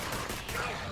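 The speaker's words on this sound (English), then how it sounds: "Wait, who's shooting?" Gunfire from the video game Borderlands 3, a short, dense burst of loud, noisy shots packed together without a pause.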